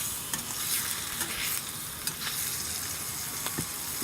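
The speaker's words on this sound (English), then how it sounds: "That's cooking that burger nice and fast." Burgers frying hot on a Winnerwell stove give a steady close sizzle and crackle throughout, with occasional sharper pops and spits, alone with no talk.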